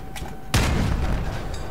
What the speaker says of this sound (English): did you see them return fire then?